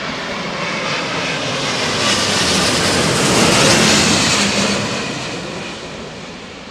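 Jet airliner landing at Heathrow Airport in strong, gusty winds, heard as a loud, steady engine roar that swells to a peak midway and then eases off, with no voices.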